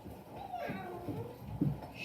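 A voice imitates a cat's meow, a couple of short drawn-out calls close to the listener, with faint background noise.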